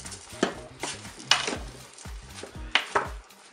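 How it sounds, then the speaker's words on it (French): Spoon scraping and knocking against a Cookeo electric pressure cooker pot while tomatoes and rice are stirred together, several distinct clinks and scrapes in an uneven rhythm, close and fairly quiet, with no talking. "Je vais bien mélanger."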